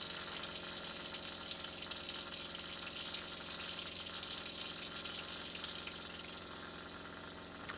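Hot water runs from an RV faucet in a steady, close hiss that eases slightly toward the end, with no talk over it.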